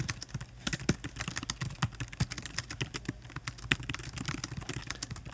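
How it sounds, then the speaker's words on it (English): Someone types quickly on a computer keyboard, producing a dense run of close, crisp key clicks with uneven rhythm and occasional louder taps. "I'm just going to type a bunch of text."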